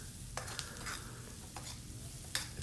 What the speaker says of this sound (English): Mixing it now, it's getting close to having the onions ready.